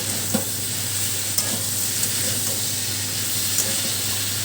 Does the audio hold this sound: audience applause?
no